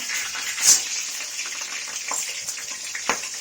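Mustard seeds and urad dal frying in hot oil make a continuous crackling sizzle with scattered sharp pops, close and moderately loud, with no talking.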